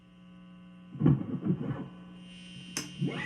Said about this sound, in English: Here's my guitar, single coils, gonna be noisy.